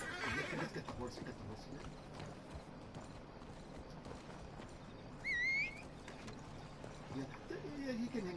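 Video game horse in a PS4 game, with a brief whinny midway over faint background game ambience and soft hoof-like clopping, mixed under occasional low talk.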